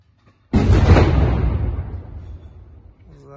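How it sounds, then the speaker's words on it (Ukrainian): A Russian tank shell strikes a building in Sievierodonetsk, bursting suddenly into a loud, close blast whose rumbling debris decays over a few seconds before a voice speaks briefly at the end. "Тепер російський танк б'є по будинку."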